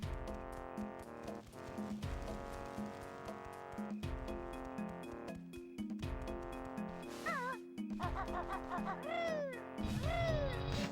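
A domestic cat meows several times, its rising and falling calls sounding near and clear over steady, tuneful video game music from Banjo-Tooie.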